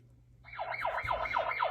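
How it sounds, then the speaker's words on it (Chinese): A police car siren effect from a children's sound book: after a short quiet moment, a fast, rising-and-falling electronic wail repeats in quick, even cycles, fairly loud and alone. "警车的声音"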